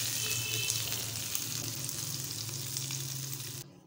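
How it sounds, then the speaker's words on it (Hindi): Hot tadka tempering with fenugreek poured into dal mash for a Punjabi recipe, giving a loud, steady sizzle and frying crackle close up that runs without a break and then cuts off abruptly near the end. "अब हम दाल को तड़का लगाएंगे।"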